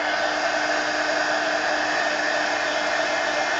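A heat gun blows a steady, loud, unbroken whoosh of hot air over wet paint layers in an art journal, holding one even roar from start to finish with no talking.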